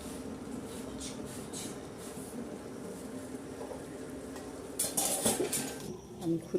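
Kasuri methi is dry roasted in a pan on the stove, with soft scraping and clinking of a utensil against the pan that grow louder and busier toward the end.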